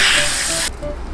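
A close, loud hiss of sprayed water rinses small swatches of white-blonde dyed hair, a steady spray that cuts off abruptly partway through, then a softer trickle.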